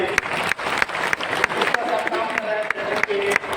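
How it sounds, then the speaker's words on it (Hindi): Loud, dense applause from a crowd at a Janmashtami festival gathering, rapid and sustained hand clapping that fills the space with a few sharper claps standing out, with voices faintly mixed in. "मैं चाहता हूँ जोरदार ताली आपके लिए"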